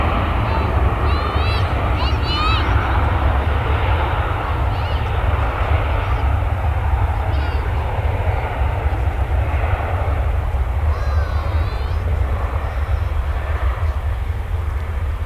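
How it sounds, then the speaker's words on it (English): A United Airlines airplane at Dallas/Fort Worth airport gives off a steady, loud engine roar with a heavy low rumble, while a person talks over it throughout. "we're going to swing over to catch this second United aircraft"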